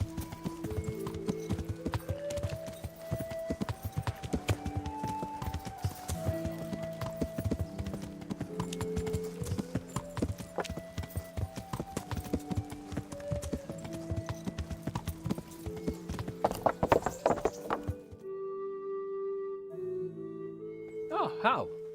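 Horse hooves clip-clopping in the video game Kingdom Come Deliverance, a steady walking rhythm over game music, with a brief whinny and a voice speaking near the end.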